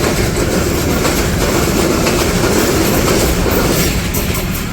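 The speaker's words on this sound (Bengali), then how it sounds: "ট্রেন চলে আসছে" A train rolls past close by on a village railway line, its loud continuous clatter and rumble of wheels on track filling the scene steadily from start to finish, with no voices.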